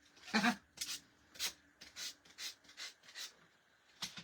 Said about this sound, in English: we're going to go ahead and take our little sanding block here